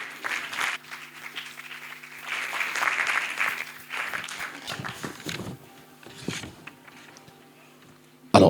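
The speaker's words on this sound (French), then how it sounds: "il mérite des applaudissements nourris" Applause for an award recipient receiving a special operational marketing prize at the ASCOM 2024 ceremony, moderately loud clapping that swells and fades in waves over several seconds, with a steady hum beneath and murmuring voices in the room.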